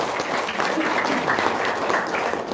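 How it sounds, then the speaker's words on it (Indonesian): An audience applauds at a religious gathering, a loud, dense and continuous wash of clapping with faint voices mixed in, holding steady throughout. "Tepuk tangan dong"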